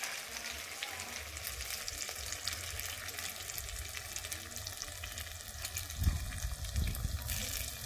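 Maggi noodles fry in hot oil while a spatula stirs and scrapes them in the pan, a steady close sizzle with a few louder scraping knocks near the end.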